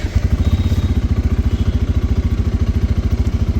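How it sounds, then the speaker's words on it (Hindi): A Bajaj Pulsar N250 motorcycle engine runs close by in a steady, rapid low thumping idle that keeps an even rhythm throughout, with no talk. "तो आपको पहले इंजन स्टार्ट करना होगा।"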